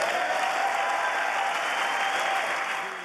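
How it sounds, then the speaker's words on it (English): Democrats in the House chamber of Congress applaud a speech, a dense, steady wash of clapping that holds level and then fades slightly at the end, with no voices standing out. "At times stoic as Democrats applauded the speech."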